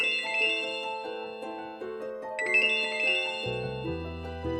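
A mobile phone ringtone plays a bright, chiming electronic melody of repeating tones. It is loud and close, running steadily with no voices over it.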